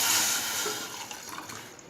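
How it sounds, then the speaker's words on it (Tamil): Half a vessel of water is poured into a pan on the stove for a homemade cough remedy with palm sugar candy, making a brief, close splashing pour that gradually tapers off with no talking. "தண்ணீர் விட்டு"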